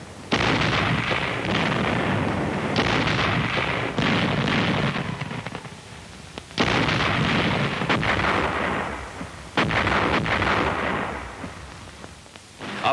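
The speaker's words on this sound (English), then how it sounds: "the infantry watched the smoke and bursts of the barrage" Wartime artillery barrage pounding an area with dense, continuous heavy bursts and rumbling blasts, loud and overlapping, broken by brief lulls before more volleys roll in.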